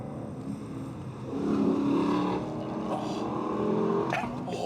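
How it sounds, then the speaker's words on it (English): A 2023 Lexus LC500 V8 revs up through its range from inside the cabin, a steady engine roar that swells to a louder peak midway and holds under faint voices. "Peak power comes in the top of the rev range."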